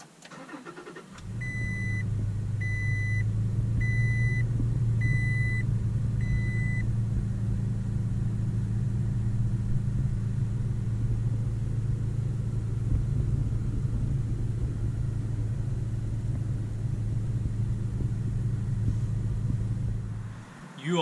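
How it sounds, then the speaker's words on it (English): A Toyota truck fitted with a new battery cranks and catches, then settles into a loud, steady low idle that drones on for about twenty seconds while a few short chime beeps sound near the start. "we're going to start up the truck and see how it does."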